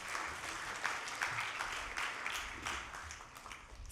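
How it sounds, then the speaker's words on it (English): A crowd applauding panelists at a teen entrepreneurship conference, dense clapping that stays steady throughout with slight swells, moderately loud in a large room. "Can we please have a huge round of applause for them?"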